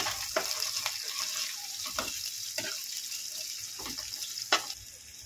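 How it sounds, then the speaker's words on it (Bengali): Chopped garlic frying in a pan for egg chop, a steady soft sizzle with several spoon stirs and scrapes, close and fairly quiet. "ভালো করে এটাকে একটু ভেজে নেব।"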